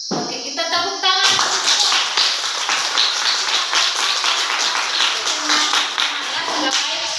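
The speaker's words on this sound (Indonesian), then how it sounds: "Oke, kita tepuk tangan." Students in a classroom clap their hands together after a short spoken cue, a lively burst of many hands that starts abruptly and keeps up a dense, even patter for several seconds.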